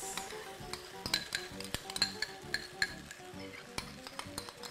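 Sauce being poured and stirred into a pan of frying bolognese meat, with sizzling under scattered clinks and scrapes of a utensil against the pan, close and moderately quiet.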